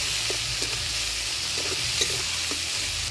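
Spice paste of ground coriander, cumin, ginger and chilli with turmeric and salt fries in a pan, a steady loud sizzle broken by quick scraping stirs at an irregular rhythm.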